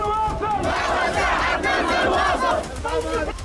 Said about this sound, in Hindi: हजारों की भीड़ ने हथियार लहराकर अमेरिका और इजराइल की बर्बादी का ऐलान किया है